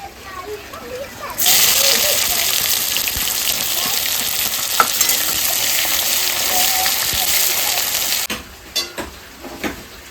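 Onion goes into a hot pan with oil and bay leaf, breaking into a loud, steady sizzle after a quiet start that continues for several seconds, then cuts off near the end with a few clatters.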